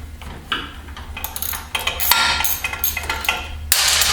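A socket wrench on a flexible extension works a bolt on a 2016 Victory Cross Country motorcycle, giving close, irregular metallic clicks, ratcheting bursts and clanks over a low background hum.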